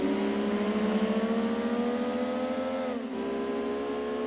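A weak Opel Vectra racing in Gran Turismo 2 drones with a steady, strained engine note. The pitch holds high, dips briefly near the end as if shifting gear, then climbs again, with no voices.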